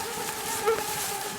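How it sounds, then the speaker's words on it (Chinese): A thin, steady whine from a swarm of mosquitoes hovers close by for the whole moment, on a border patrol path in Xinjiang, with no voices present. "那刚刚一进来就已经感受到了那个蚊子在旁边嗡嗡嗡的那种声音了"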